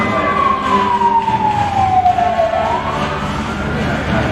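A fire engine siren wails at the Universal Studios Backdraft show, one long descending sweep that dips and starts to rise again, loud and steady over a busy crowd-filled background.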